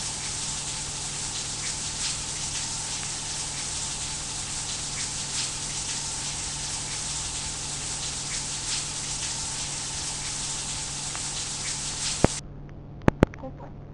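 Water flushing in a steady, loud rush that runs for about twelve seconds, then cuts off abruptly, followed by a few sharp clicks.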